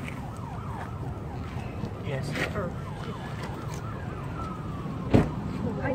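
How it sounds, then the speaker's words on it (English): An approaching ambulance siren wails in repeated rising and falling sweeps, moderately distant, beneath tense talk and heavy background noise during an emergency, with a brief sharp bump near the end. "Here come the ambulance."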